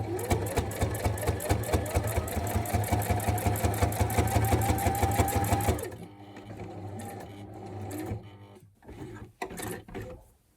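A sewing machine stitches in a fast, even rhythm of rapid mechanical clatter for about six seconds, then stops, followed by quieter handling noises and a few short bursts.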